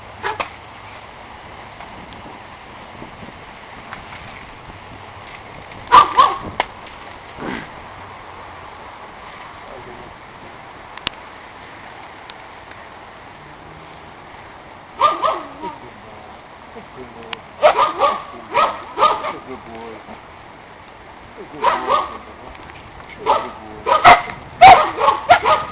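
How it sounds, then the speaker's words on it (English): Rottweiler and another dog scuffling during a tropical storm, with sharp bursts of barking and yipping in clusters around steady background noise, while people talk intermittently. "Keep Snickers attacking the Rottweiler"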